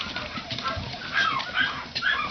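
A puppy whimpers and whines in high, wavering cries that rise in a few short bursts, close and moderately loud, with no clear speech over them.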